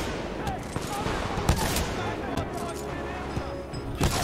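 Rapid gunfire bursts in the video game Titanfall 2, dense continuous shooting with sharp louder cracks, mixed with game effects and a voice talking over it.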